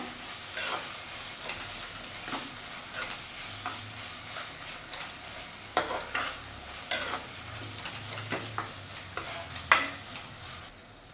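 Onion and tomato for misal sautéing in a pan, a quiet steady sizzle broken by irregular spatula scrapes and light knocks, close and fairly soft.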